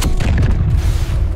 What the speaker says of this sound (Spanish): ¡Otra explosión!